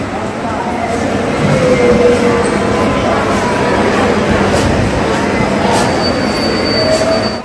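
Interior ambience of Tirupati railway station: a loud, continuous rumble of trains with high wheel squeals and brief tonal whines, steady throughout with a faint murmur of voices underneath.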